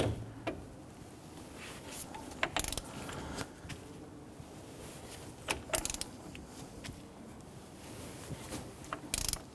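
Torque wrench ratcheting down the front axle nut on a Honda Ridgeline during wheel bearing replacement, bursts of sharp clicking clusters with quiet gaps, close and fairly soft.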